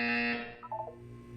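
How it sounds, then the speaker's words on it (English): A single electronic buzzer tone from the video game Portal 2 sounds loud and sustained for about half a second, then cuts off, followed by a brief chime-like electronic flourish and a quiet hum. "When you hear the buzzer, look down at the floor"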